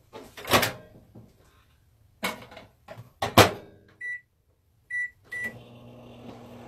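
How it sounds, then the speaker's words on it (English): A microwave oven reheating a cup of coffee with peanut butter and cacao: clattering door and handling knocks, then a few short electronic beeps, and a low steady hum as it runs, near and without talk. "what I do is I throw it in the microwave for about 30 seconds just to heat it back up"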